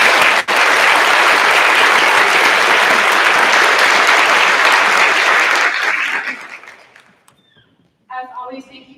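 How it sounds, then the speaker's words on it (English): An audience at an 8th grade graduation ceremony applauds loudly and steadily for about six seconds, then the clapping fades out. "Will you please give them a round of applause?"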